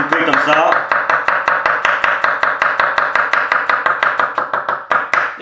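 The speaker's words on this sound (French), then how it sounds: "si vous avez un morceau comme ça, ben, dans le sens inverse, vous venez juste le découper comme ça." A knife cuts through melon on a board in quick, even, loud chops, roughly five strokes a second, with a brief clatter at the start and no talking.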